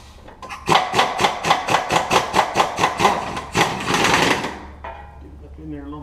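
A pneumatic impact gun rattles in a fast, loud burst of hammering pulses while backing off transfer case bolts on a Jeep Grand Cherokee, close up, followed by a brief whir as it spins down and faint talk.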